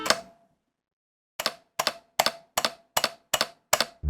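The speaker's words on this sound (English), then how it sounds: "you can actually hear the metal of the keyboard making a weird sound" Seven sharp keystrokes on a budget mechanical keyboard after a pause, each with a faint metallic ring from the metal case lingering behind the clack, quiet and close.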